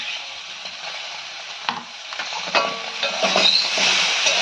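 Ginger and green chili paste sautés with fried eggplant and potato in a pan, a steady close sizzle broken by scraping stirs that grow busier and louder toward the end.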